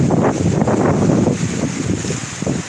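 Strong wind buffets a phone microphone outdoors during a live stream, a loud continuous rumbling roar with gusty surges and no speech.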